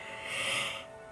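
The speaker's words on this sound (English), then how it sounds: "I have to yawn." A single drawn-out yawn, a breathy rising and falling exhalation lasting about a second, close and alone.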